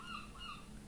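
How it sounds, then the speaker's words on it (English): A seagull calls faintly in the background, two short honking cries over a quiet ambient hum. "there's a seagull in the background."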